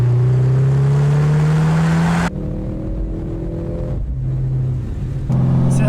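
A powerful Mercedes-AMG C63 S V8 engine rumbles and revs loudly and close, its deep growl shifting pitch as the throttle rises and falls.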